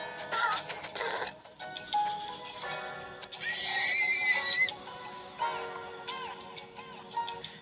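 Horse neighing in the Minecraft Pocket Edition video game: several whinnying calls rise and fall over light ambient game sounds and faint ticking, fairly close and moderately loud, with no voices.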